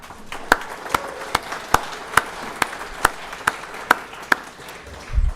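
Audience at a Sunday Oregon legislative summit breakfast claps in a slow, evenly spaced rhythm, about two sharp claps a second over a low room murmur, with no talking.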